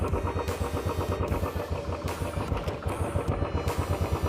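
A Royal Enfield Standard 350 BS6 motorcycle pulls away on clutch release alone, its single-cylinder engine thumping in a steady, loud, close low-pitched rhythm throughout.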